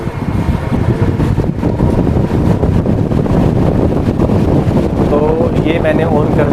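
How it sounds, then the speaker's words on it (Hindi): Loud, steady broadband rushing of an air cooler fan blowing close to the microphone, continuous throughout with a faint whine near the end. "ये मैंने ऑन कर दिया है कूलर"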